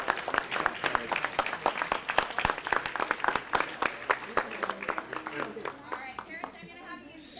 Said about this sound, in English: Give these parents a round of applause.